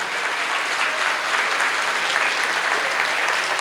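A crowd at a Tamil community festival gathering applauds the organizing committee, dense, loud, continuous clapping filling the whole stretch with no gaps.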